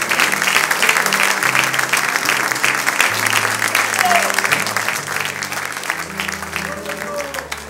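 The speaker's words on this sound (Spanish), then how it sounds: "Y ahora un aplauso con ánimo." Church congregation breaking into enthusiastic, energetic applause during a Friday evening worship service, dense sustained clapping throughout with voices and shouts mixed in.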